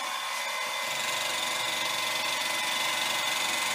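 Milling machine lowered onto a metal workpiece held in a vise, a steady, loud, continuous high whine of spindle and cutting that stays even throughout, with no talk.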